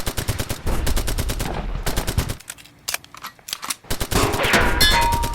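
Rapid bursts of machine-gun fire and single gunshots crack out loudly in a cinematic tabletop Bolt Action wargame battle, with short pauses between volleys.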